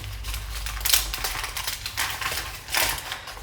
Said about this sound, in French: je vais faire du bruit avec le plastique